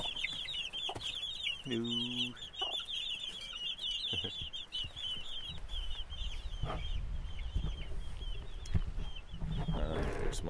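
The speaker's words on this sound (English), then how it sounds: "Here be chickens." Chickens cluck in a farmyard, with a rhythmic burst of clucks and scattered calls over steady high chirping birds, while someone briefly speaks a greeting nearby.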